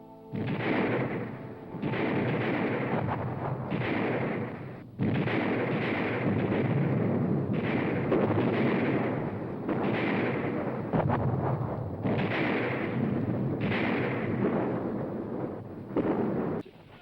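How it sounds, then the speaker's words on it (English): Artillery fire in a desert battle during a British attack: a series of loud, rumbling booms that come in repeated bursts of about two seconds each, with brief gaps between them. "On a December morning, the British, under General Wavell, attacked."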